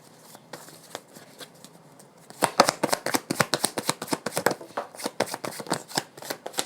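A deck of playing cards is shuffled close by on a table, starting with soft riffles and then turning into a fast, loud run of crisp flutters and snaps.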